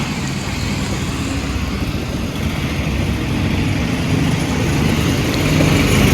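Early-morning market vehicles pass on a road, a broad rumbling engine noise that stays constant and slowly swells louder toward the end, with no voices.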